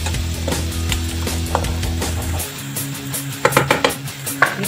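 Black bean sauce stirred in a pan with a utensil, a run of quick scraping and clinking strokes over a steady low hum from the stove, with a few sharper metallic knocks near the end.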